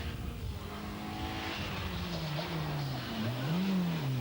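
Peugeot 205 GTI rally car on the 1991 Manx National Rally, engine droning and rising in pitch as it accelerates, fairly distant and moderately loud.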